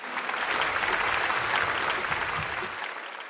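Sustained, loud applause from a studio audience at a Vietnamese rap competition show performance, steady clapping filling the whole moment with no speech.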